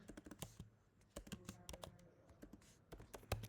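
Close, dry keystrokes clatter on a computer keyboard as C++ code is typed, coming in quick irregular bursts of taps with brief pauses between them and no voice.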